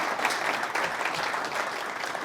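An audience claps together at a 2024 honoree event, a steady wash of applause heard from within the room, moderately loud and alone.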